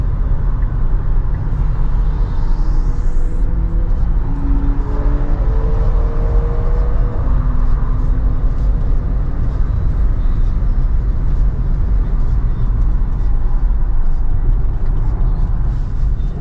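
Tesla Model Y accelerating hard on the Nürburgring, heard from inside as a steady loud road and wind roar with a faint rising electric whine near the start, and a voice talking over it.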